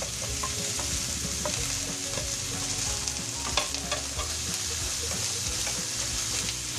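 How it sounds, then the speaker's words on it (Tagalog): Carrots and potatoes sautéing with ground pork loin, a steady close sizzle with frequent scraping stirs of a utensil against the pan throughout, with no voices. "pwede na po nating igisa ang ating carrots at ang ating"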